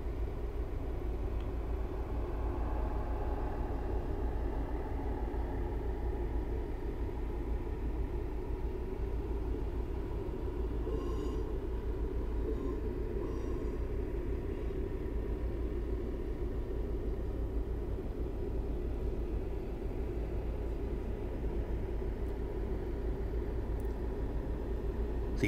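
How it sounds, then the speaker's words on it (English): A Class 158 diesel unit coasting with power off in Train Simulator 2018, a low steady rumble of wheels on track with even background noise and a few faint higher clicks midway. "I've shut off the power to allow the train to coast"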